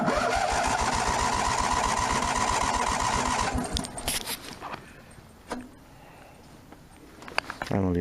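A Craftsman snow blower engine cranks with a rapid, rhythmic chugging for about three and a half seconds, then cuts out. A few scattered clicks and handling knocks follow in the quieter remainder.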